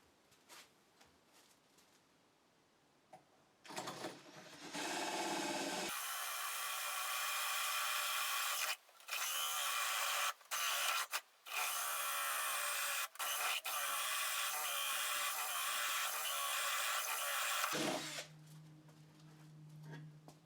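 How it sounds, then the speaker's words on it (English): A drill press whirs steadily into a wood block for several seconds, with brief drops as the bit pauses, ending in a quieter motor hum nearby. "I'll start them in the drill press."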